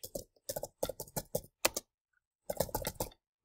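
Close, crisp keystrokes on a computer keyboard while Python code is written, tapped in quick bursts of clicks separated by short pauses, with no voices.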